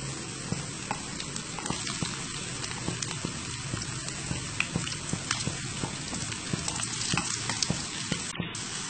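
Sweet potato chips frying in hot oil, giving a dense, continuous sizzle with scattered sharp crackles and pops, steady and close throughout.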